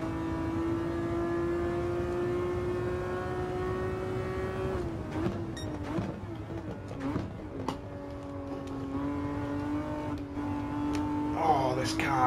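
A race car engine in Gran Turismo 7 holds a steady, droning high-rev note through a lap under full throttle, with brief shifts in pitch, while someone talks over it.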